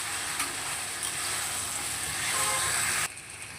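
Taro leaves stirred and fried in oil, a steady close frying hiss with faint stirring that cuts off sharply near the end.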